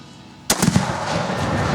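A Tannerite rag bomb goes off in one sudden loud blast, followed by a rolling, echoing rumble that stays loud and fades slowly.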